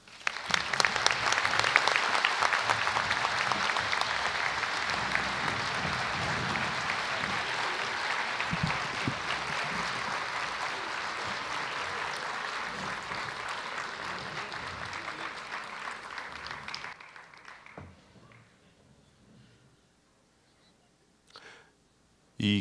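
Sustained audience applause at an awards and recognition ceremony, loud and steady for about seventeen seconds before tapering off into near silence with a few faint sounds.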